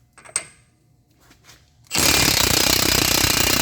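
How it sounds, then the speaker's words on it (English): After a couple of soft clinks, a pneumatic impact wrench with a 12-point 30 mm socket takes off the axle nut on a 2012-2014 Toyota RAV4 EV, a sudden loud continuous rattling hammer. "go ahead and remove that nut with a 12-point 30mm socket"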